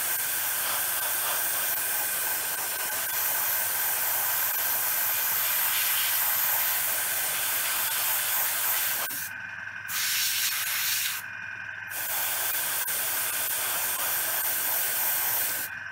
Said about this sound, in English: So I've just given it a quick blast with a hairdryer